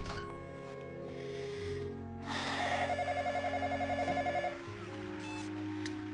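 A telephone rings in a quiet room in a romance TV film. Its trilling bursts repeat in a steady electronic rhythm over faint background hum.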